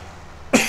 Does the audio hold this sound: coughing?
yes